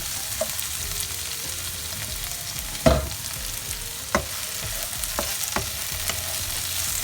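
Onions, spring onions and garlic cut into pieces stir-frying in a hot pan for a simple vegetable stir fry, a steady close sizzle with a few sharper crackles and clatters of stirring.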